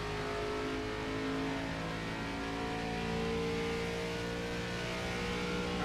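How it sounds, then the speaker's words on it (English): Chevrolet Camaro SS ARCA race car rolling out of the pits at Daytona for a build-up lap, a steady mid-pitched engine drone that holds close and fairly loud for the whole stretch, with no talk over it. "let's roll out in the pits for our build-up lap"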